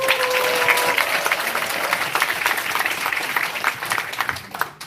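An audience at a Korean party members' rally in Eunpyeong breaks into steady applause welcoming a lawmaker, a dense wash of clapping that holds at even strength for about five seconds with no voices.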